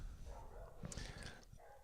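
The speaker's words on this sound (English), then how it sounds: "I don't know if you can hear my dogs going crazy." Several dogs barking faintly in a house, a quick series of distant yaps and woofs behind a low background hum.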